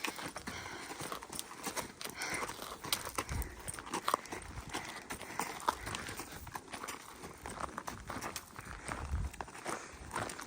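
A tall horse being ridden on a farm gives steady clip-clopping hoofbeats in a constant walking rhythm, close and fairly loud, with outdoor noise around them and no clear talk.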